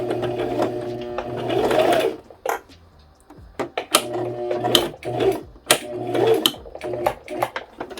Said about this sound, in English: Drop our foot, and we're going to sew straight up this line.